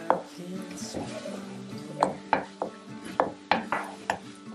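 Oyster sauce is stirred into minced meat rice in a pan with scraping, clattering strokes that grow sharper and more rhythmic in the second half. A faint sizzle sits underneath and no one speaks.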